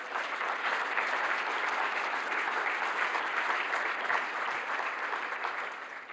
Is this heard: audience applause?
yes